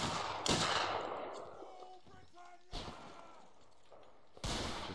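Mount & Blade Anglo-Zulu multiplayer battle: several sharp musket shots crack out alone, spaced a second or two apart, each with a rolling tail, over quiet ambient noise.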